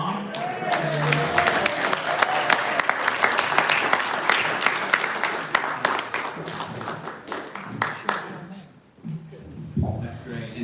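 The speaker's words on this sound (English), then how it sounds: "So how about an applause for both Jack and his mom?" A Rotary fellowship gathering applauds a high school junior named Jack and his mother: sustained, lively clapping from a room full of people, with voices mixed in, tapering off near the end as someone begins to speak.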